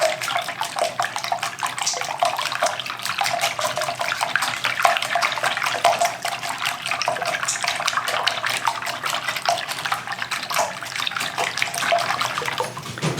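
Eggs and milk are beaten in a bowl with fast, continuous, even strokes that make a steady wet, splashy clatter. No one speaks over it.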